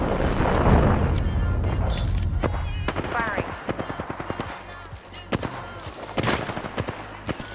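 Rapid video game gunfire crackles in dense bursts, then breaks into sharp separate shots with a steady game soundscape underneath and a voice speaking over it.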